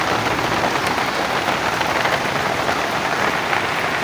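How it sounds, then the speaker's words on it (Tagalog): Heavy rain pours down steadily ahead of an approaching typhoon, a dense, continuous hiss of drops striking surfaces with no pauses and no voices. "Lakas ng ulan ito mga idol oh."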